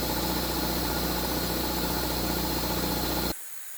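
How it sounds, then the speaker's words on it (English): A large secondhand electric air compressor runs loudly and steadily as it builds air pressure, a constant close motor drone with rhythmic pumping that cuts off abruptly near the end, leaving faint background. "now it is building the air pressure a lot faster than before"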